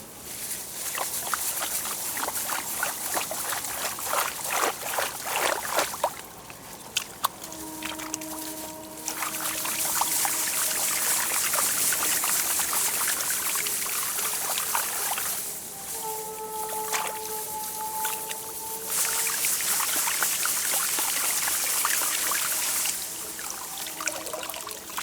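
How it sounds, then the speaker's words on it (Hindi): Water pours and splashes steadily over the soil-caked roots of an uprooted rice plant outdoors, a continuous trickling rush with brief pauses, loud and close, with no talking. "अब इसके बाद इसके जड़ को धो के देखता हूँ।"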